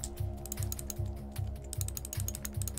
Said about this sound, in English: my mouse clicking away, you can probably hear, until it's all filled in